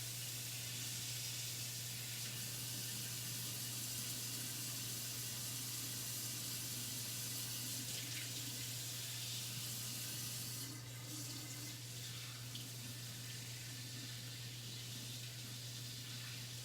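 Hot water pours steadily over saffron threads in a dish while making kheer, a continuous, quiet hiss and trickle of liquid with a low hum beneath, unbroken for the whole stretch and with no voices.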